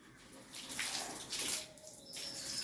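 Water splashes and pours in uneven bursts during a dog's bath outdoors. The sound is fairly soft, with faint bird calls in the background.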